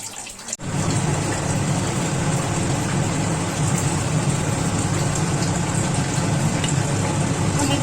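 Oil sizzling and frying in a pan for katla fish curry makes a loud, even hiss that starts abruptly after a short pause and holds steady until the end, with no talking.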